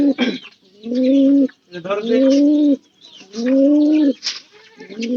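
Giribaz cross pigeons cooing up close, loud drawn-out throaty coos in about four bursts separated by short pauses, with brief voices and rustling between them.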